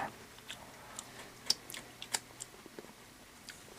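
Someone chews a crunchy canned leaf from a garden plant, giving a series of faint, close, irregular crisp crunches and bites over a quiet background, with no talk.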